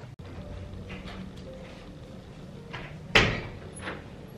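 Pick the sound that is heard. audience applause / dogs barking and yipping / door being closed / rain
door being closed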